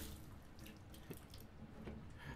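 A shower runs in a video game, a faint, continuous hiss of splashing water that holds steady for a couple of seconds, with no talk.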